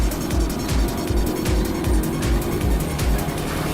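A car driven hard and fast, its engine droning loud and steady throughout with a continuous rushing roar and no break.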